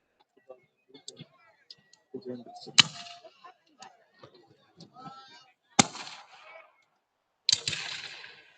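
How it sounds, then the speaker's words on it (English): Confederate muskets fire crisp volleys at a Battle of Olustee reenactment, with three loud, sharp reports ringing out at intervals amid scattered smaller clicks and pops, mixed with talking. "Confederates are getting off nice, crisp volleys."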